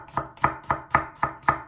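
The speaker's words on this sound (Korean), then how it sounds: "마늘을 다져 보겠습니다." Garlic cloves minced with a kitchen knife on a cutting board: six crisp, evenly spaced chops in a steady rhythm, close and clear with no talking.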